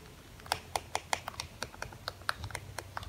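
Clicky plastic power buttons on an LED light controller pressed in a quick irregular run of sharp, close taps, about a dozen crisp clicks in a few seconds with no talking.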